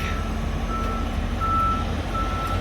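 A big rig truck backs up with its reverse alarm beeping in a steady repeating pattern over a low diesel engine rumble, moderately distant outdoors.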